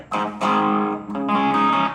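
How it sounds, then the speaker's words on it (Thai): Electric guitar through the overdrive effect of a Korg AX3000G multi-effects unit plays a few gritty chords, crunchy and sustained, with short gaps between strums. "สแบง์ที่สองเป็นเสียงแตกโอเวอร์ได"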